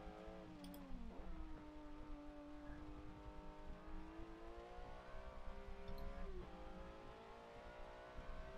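A rear-wheel-drive Ferrari 458 GTB with a naturally aspirated engine, driven in the Forza Motorsport 7 racing game, revs steadily at high rpm. The tone dips briefly twice during gear changes and then climbs again, with no talk.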